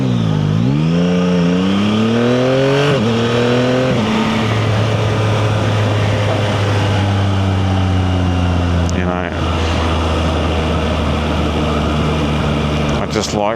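A motorcycle being ridden revs up through rising engine pitches in quick successive gear changes, then settles into a steady loud drone with wind noise, close and continuous.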